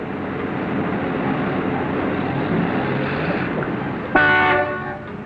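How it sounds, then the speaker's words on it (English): A steady roar of traffic noise fills a rush-hour jam on a city street, then a loud car horn blares close by near the end and holds for about a second. "Will you stop honking, Mac? We ain't going nowhere."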